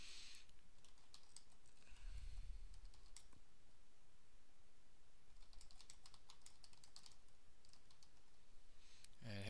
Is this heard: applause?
no